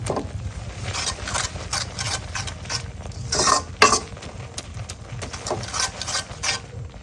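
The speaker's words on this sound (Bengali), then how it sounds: "এই যে ডালগুলো সুন্দরভাবে আমি এই যে ঘুটে নিব" Boiled dal, cooked with onion, garlic and green chillies, gets stirred and mashed in a pot, giving repeated soft scraping and sloshing strokes with an occasional clink of the spoon against metal.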